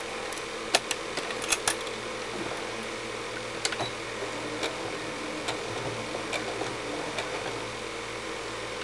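A sewing machine stitches a martingale dog collar, running in a steady fast mechanical whir with repeated ticking clicks and occasional sharper knocks throughout, close and continuous.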